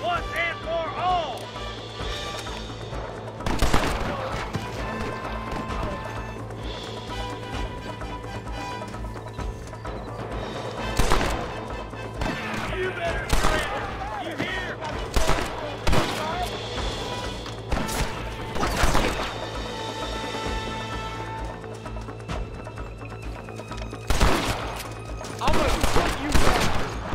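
Gunfire crackles throughout a Red Dead Redemption shootout at a hideout, with sharp rifle and pistol shots in irregular bursts over horse hooves, crashes and shouting voices.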